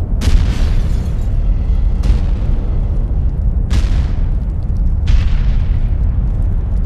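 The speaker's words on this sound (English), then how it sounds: "They're bombing the hills" Heavy bombing explosions on distant hills, four deep booming blasts spaced a second or two apart over a constant loud low rumble, with no voices.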